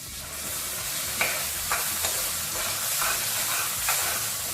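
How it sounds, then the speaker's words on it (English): Onion masala with jeera powder frying in a pan, a steady broadband sizzle with a few faint stirring scrapes, no voices. "fry for few minutes till the onions become brown"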